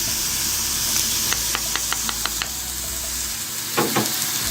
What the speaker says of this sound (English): Now we're gonna give this a stir.